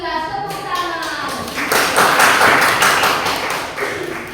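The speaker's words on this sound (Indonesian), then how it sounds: "Sudah, alhamdulillah, tepuk tangan." Applause from a classroom group for group 2, a dense burst of many hands clapping that swells in the middle and carries on steadily, with faint children's voices mixed in.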